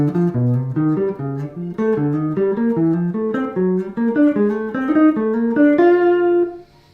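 A piano plays triads, each approached from a half step below its first note, in a flowing run of quick chromatic figures that ends on a held chord and fades.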